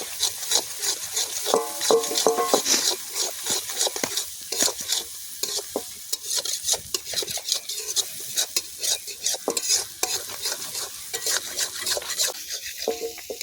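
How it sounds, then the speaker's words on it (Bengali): Masala spices for chicken kosha sizzle in a pan while being stirred, with close, irregular scraping strokes of a spoon against the pan over a soft frying hiss and occasional clinks. "মশলা খুব সুন্দর করে কষে গেছে"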